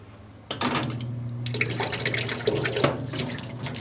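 Water gushes from a pump outlet, with a filter crammed snugly under the pump's intake, in an aluminum polishing setup; the flow starts abruptly and then pours on loud and steady.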